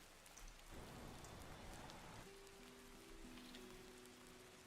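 Gentle rain sounds play during a Diablo 4 game stream, a steady soft hiss of rain on a surface with scattered drops, even and continuous, joined partway by a faint tonal hum from the game.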